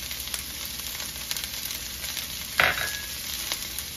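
Chopped onions sauté in hot oil in a pan, seasoned with salt and pepper, giving a steady close sizzle with one brief louder crackling burst partway through.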